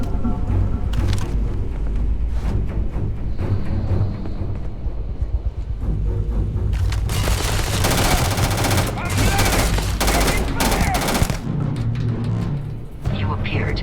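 Rapid bursts of gunfire from the video game Starfield, loud and dense with repeated volleys and heavier blasts, overlaid by game music and a calm synthetic voice speaking.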